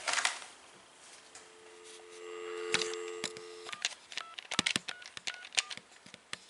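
A Southwestern Bell FM1000 telephone is used to dial an outside call, with steady tones at first, then a run of sharp clicks and short beeps in quick irregular succession, close and fairly quiet.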